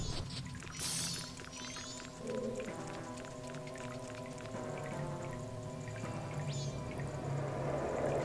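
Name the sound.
spring water flowing in Zelda Majora's Mask 3D video game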